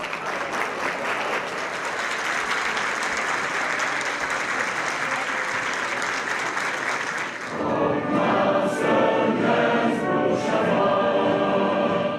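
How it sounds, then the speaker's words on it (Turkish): Audience applause greets Professor Mehmet Haberal at the Başkent University alumni association's 2019 medal ceremony, a loud, dense, steady clapping from a large crowd that runs throughout and grows fuller near the end. "Alkışlarla karşılandı."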